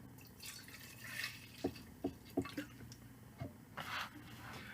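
Margarita mix with tequila is poured into a tin cup, heard as a few soft splashes and drips at close range, faint against a quiet room.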